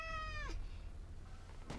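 A cat gives a single clear, drawn-out meow that falls in pitch and ends abruptly. A faint low hum continues underneath with no talk.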